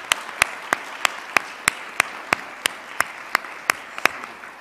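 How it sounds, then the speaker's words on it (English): Evenly spaced single claps ring out about three times a second in honor of the debaters at a campus free speech debate. They sound sparse and steady rather than like a full ovation, with no talk over them. "join me in a round of applause for the debaters"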